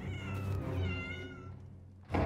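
A kitten meows in a room full of kittens, one drawn-out, fairly loud, wavering cry that fades away before a short knock at the end.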